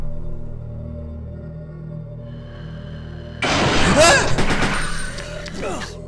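After a few seconds of quiet low hum, a burst of rapid gunfire erupts in the video game Resident Evil 2, loud and close, with sharp cracks and debris rattling.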